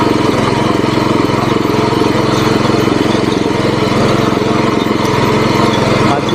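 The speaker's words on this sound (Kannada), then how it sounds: "ಸ್ಟಾರ್ಟಿಂಗಲ್ಲಿ ನೆಲ ಕೀಳಲಿ ಅಂತೇಳಿ ಫಸ್ಟ್ ಗೇರಲ್ಲೇ ಹೊಡಿತಾ ಇದ್ದೀನಿ." A mini power weeder tilling soil in first gear, its small engine droning loud and steady close by for the whole stretch with no pauses, under the load of the ground.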